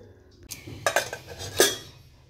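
Freshly cooked, still-hot rice being served onto a plate, with a few close metal clinks and scrapes of a serving utensil against the dish over a quiet room.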